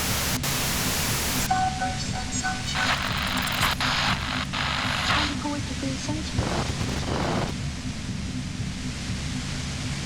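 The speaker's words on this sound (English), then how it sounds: "The violent white noise becomes even more overwhelming closer to the compressor." Violent, overwhelming white noise near a compressor in Disco Elysium, a loud, steady hiss that fills the whole clip, with brief tonal game sounds layered on top.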